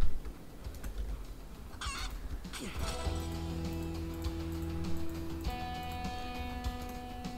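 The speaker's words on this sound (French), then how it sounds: "Et on récupère notre petite poule." A chicken clucks and squawks in the survival game Project Zomboid, short fowl calls over game ambient tones and a few keyboard taps, fairly quiet.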